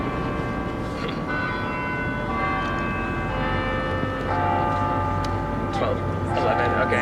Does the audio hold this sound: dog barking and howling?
no